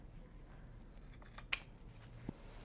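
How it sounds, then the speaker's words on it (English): One quiet snip of scissors cutting wristband material, short and sharp against a faint background. "So we're going to cut it at 7 inches."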